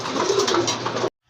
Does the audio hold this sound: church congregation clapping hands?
no